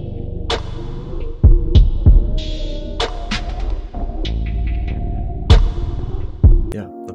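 A slow, melodic R&B beat built in FL Studio plays steadily, with heavy, booming low drums and sharp percussive hits under soft sustained tones.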